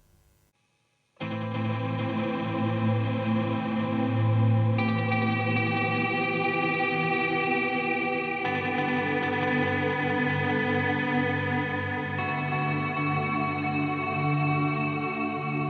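Guitar chords ring through a Particle Reverb set to 100% feedback, heavy and endlessly sustaining, washing into a thick shimmering drone that shifts as new chords are struck.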